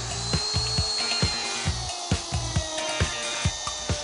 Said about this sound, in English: We've got power tools going everywhere.